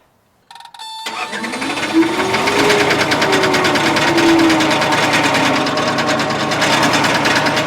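A cheap skid steer engine with broken piston rings cranks and catches, then runs loud and close with a rough, rapid knocking clatter that holds steady to the end.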